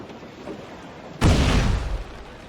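A naval mine bursting in the water in Assassin's Creed IV Black Flag, one sudden loud deep blast that rumbles and fades over about a second after a quieter stretch of ship ambience.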